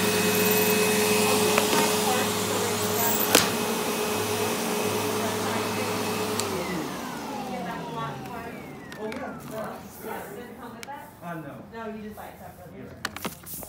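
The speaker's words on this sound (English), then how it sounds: "We're gonna do the hose. I got the Dyson trunk in this one." A Dyson vacuum cleaner with its hose in use hums as a steady, loud motor drone for about six seconds, then the whine winds down and fades out while voices talk over the quieter remainder.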